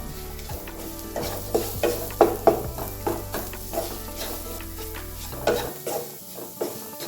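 Onions sautéing for an aloo mutter (potato and pea) curry: a steady close sizzle in the pan, broken by repeated scraping and stirring clatter of a spoon against the pan, with no talking.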